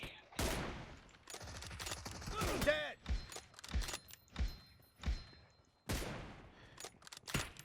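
Rapid gunfire bursts in the PUBG Mobile battle-royale game, sharp repeated shots mixed with thuds and loud impacts, heard under excited voices calling out hits.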